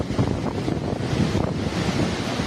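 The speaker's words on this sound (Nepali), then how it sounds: "यत्रो भल आइरहेको छ" Rushing flood water in a swollen Nepali stream, a continuous heavy churning roar with wind buffeting the microphone, close and loud without pause.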